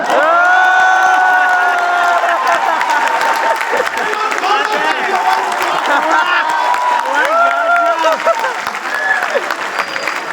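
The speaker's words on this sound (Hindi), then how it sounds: "अब आपकी तालियां चाहता हूं।" A large student crowd at a poetry gathering claps, cheers and whoops loudly and continuously, with shouting voices mixed into the roar throughout.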